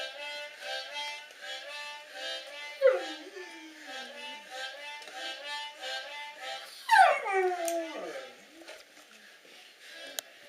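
London the dog whimpers and lets out two rising, wavering howls over steady musical background sound, fairly close, with a voice faintly present.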